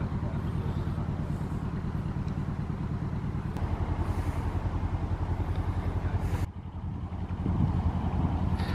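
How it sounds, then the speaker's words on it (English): A boat engine running steadily as the boat pulls away, a continuous close, throbbing low drone that dips briefly then resumes with a slightly louder, rougher tone. "There she goes, Tom at the helm."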